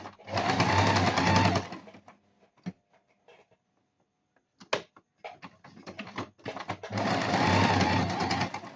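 A sewing machine stitches on a button in two loud, fast whirring bursts at the start and end, with quiet clicks and handling noises between them.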